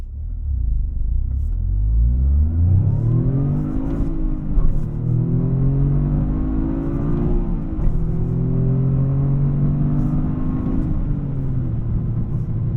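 A 2025 Toyota GR Corolla accelerates through several gears, the engine note climbing in repeated rising sweeps broken by brief dips at each shift, a close, steady rumble throughout.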